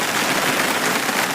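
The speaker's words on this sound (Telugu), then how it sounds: "చూడండి ఇక్కడ వర్షం కొడుతుందో ఇట్లాగో" Heavy rain pours steadily in Odisha, a dense, loud, continuous hiss of drops hitting surfaces and covered vehicles, with no voices.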